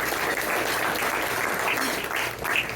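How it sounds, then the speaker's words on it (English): A room at a press luncheon applauds its sponsors with sustained, even clapping from many hands, a dense wash of claps that stays steady for a few seconds with no talk over it. "Let's give them a round of applause"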